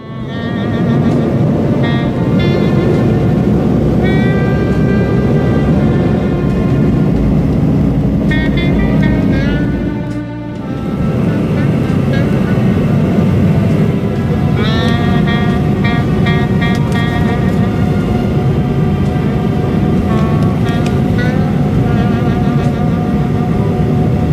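Airplane in flight approaching Vancouver, a loud steady cabin drone of engines and airflow sustained throughout, with brief tonal chimes or whines layered on top.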